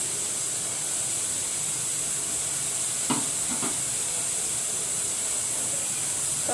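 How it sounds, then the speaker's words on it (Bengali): Green chillies and chopped onion frying in a kadai, giving a steady, soft hiss and sizzle throughout, with a few brief clinks of a spoon or spatula against the pan partway through. "তো আমি কড়াইয়ের মধ্যে কাঁচামরিচ ও পেঁয়াজ কাটানো দিয়ে দিয়েছি।"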